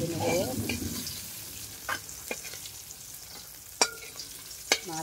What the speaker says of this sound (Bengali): মাছটাকে ভালো করে কড়া করে ভেজে নেব